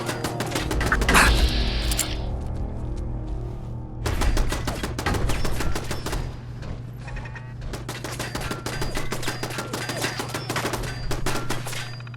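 Repeated gunfire bursts in the video game Fallout 4, rapid sharp shots in loud clusters with brief pauses between volleys, close and dominant throughout.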